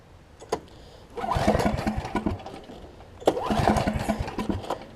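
Snapper RER riding mower being cranked, with two loud bursts of starter churning and engine turnover that fail to catch, separated by a short quiet pause.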